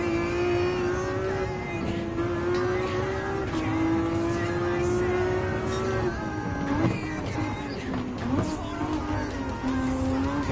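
Race car engines roar in the Gran Turismo 7 video game during a club race, a loud, steady droning note that rises and falls in pitch as the cars hold speed and shift through the run.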